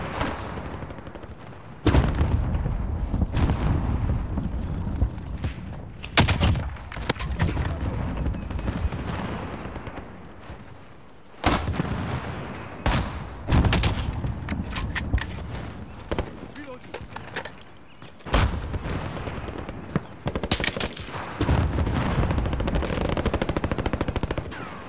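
Video game combat is heard as bursts of rapid machine-gun fire and heavy gunshots with occasional booming blasts, loud and near, broken by brief pauses, while players talk over the action.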